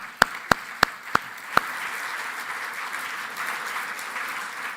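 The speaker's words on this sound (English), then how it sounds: "Please give a round of applause to them." At an awards ceremony for an African sustainability prize, five sharp, close handclaps ring out in an uneven sequence, followed by a soft, steady wash of scattered applause from a distant crowd.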